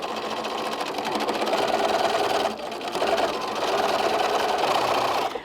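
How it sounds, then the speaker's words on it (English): A sewing machine stitches fabric for a tie bag in one steady, close, continuous whir, pausing briefly mid-run before resuming at the same pace, with no talking. "we'll go to the sewing machine. We'll stitch that down"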